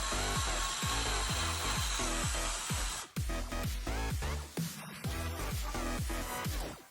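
Drilling through a decorative egg ornament to make an Easter egg candlestick, a close, steady power-drill whine with repeated rhythmic grinding pulses that briefly pause and restart midway.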